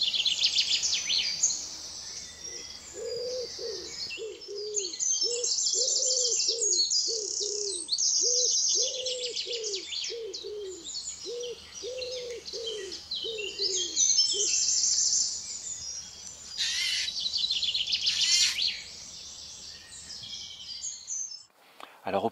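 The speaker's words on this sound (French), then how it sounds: "ces chants d'oiseaux simultanés peuvent paraître un peu cacophoniques" Dawn chorus of many birds singing at once, dense overlapping high chirps and trills throughout, with a rhythmic series of lower cooing or call notes in the first two-thirds, moderately loud and continuous.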